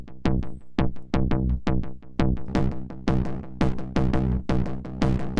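Dry bass part played without the Fxpansion Maul effect, a plucked synth line of quick punchy notes in a steady driving rhythm, loud and close with no talking.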